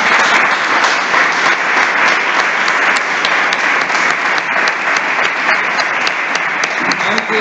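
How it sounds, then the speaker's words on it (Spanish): Strong, sustained applause from the audience at a book presentation, a loud, continuous wash of clapping that holds steady for several seconds with no talk over it. "Le damos un fuerte aplauso."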